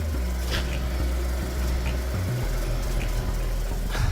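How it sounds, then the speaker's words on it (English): A Ford Ka idles with a rotten, split exhaust back box, a close, steady low rumble with faint knocking and a dip in tone partway through. "you can actually hear the exhaust"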